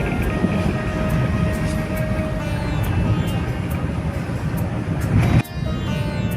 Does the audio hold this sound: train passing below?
yes